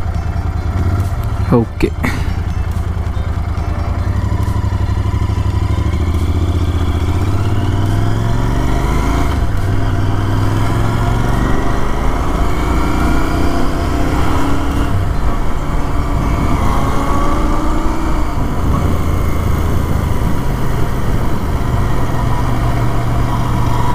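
A Royal Enfield GT650 motorcycle engine idles steadily and loudly up close, a continuous throbbing rumble with slight pitch shifts throughout, and a brief spoken word near the start.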